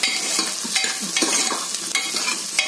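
Onion fries in a pressure cooker with a bright, crackling sizzle and repeated stirring scrapes in an uneven rhythm, close and moderately loud, with no voices.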